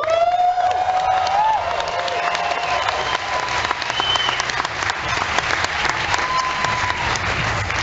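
A crowd applauding at the BlackBerry 10 launch event, dense sustained clapping from many people with scattered whoops and cheers, loud and continuous throughout.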